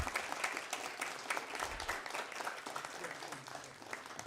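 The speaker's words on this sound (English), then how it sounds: "Please give a big round of applause to our winning team." An audience at an international student quiz contest ceremony in Thimphu applauds the winning team, with sustained moderate clapping and individual hand claps distinct within the crowd noise, over a faint low murmur.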